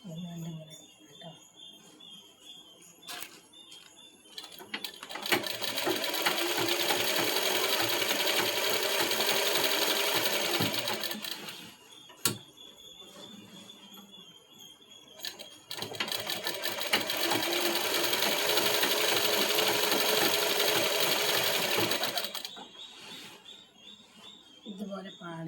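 A sewing machine stitches a bed cover in two long continuous runs, loud and steady, separated by a short quieter pause.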